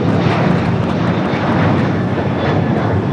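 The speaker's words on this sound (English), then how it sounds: "This is a Boeing 737-800." Boeing 737-800 jet airliner at Los Angeles International Airport, a loud, steady broadband engine roar that stays close and constant throughout, with no talk.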